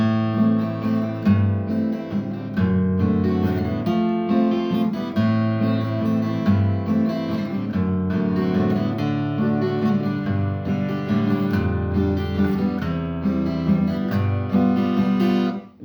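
Piano chords move through a progression with sustained, full-bodied harmonies, played steadily and alone at moderate loudness.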